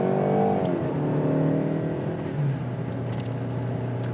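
A 2018 Jaguar E-PACE accelerates through its ZF 9-speed automatic, engine note climbing then dropping at an upshift around the middle and pulling on again, heard steadily from inside the cabin with no talk.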